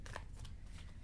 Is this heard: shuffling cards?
yes